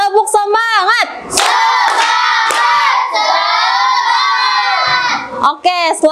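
Schoolchildren repeat a rhythmic clapping cheer together, with crisp handclap bursts and a long stretch of loud, unified shouted chanting, bracketed by brief individual voices at the start and end.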